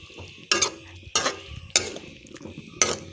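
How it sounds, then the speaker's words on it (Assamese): Jackfruit seed curry being stirred in a pan, four distinct scraping strokes about half a second apart over soft background sizzle, close and fairly quiet with no voices. "এতিয়া লৰাই দিব"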